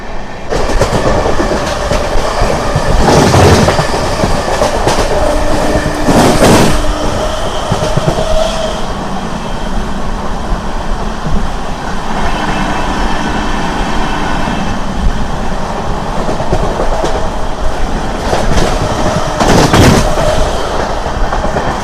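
Amrit Bharat Express passes straight through Kavali station without stopping, a loud steady rumble of rolling wheels with clickety-clack and occasional sharp bursts as it runs on.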